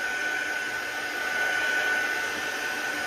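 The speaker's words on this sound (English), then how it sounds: "I'm just going to make sure it's completely dry by giving a quick going over here with the heat tool" A heat tool blows hot air over gel-press-printed cardstock to dry it, giving a constant, loud whirring hiss with a faint steady whine, unbroken for the whole stretch.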